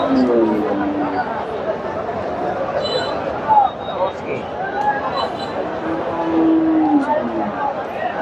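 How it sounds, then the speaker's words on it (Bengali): A Sahiwal dairy cow lows several times at the busy Dhap cattle market in Bogura, drawn-out moos rising above a constant bed of crowd murmur and nearby chatter. "মাশাআল্লাহ সুন্দর একটা গাভী শাহিওয়াল"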